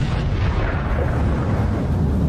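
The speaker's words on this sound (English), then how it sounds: "the Russian air defense system was turned into a spectacular fireball" A Russian air defense system hit by Ukrainian artillery erupts in a dense, sustained roar of deep rumbling blast noise, loud and steady throughout with no distinct individual bangs.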